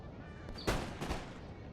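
Cavalry firing muskets in a Napoleon Total War battle: two quick distant gunshot cracks about half a second apart, faint over a low ambient battlefield rumble.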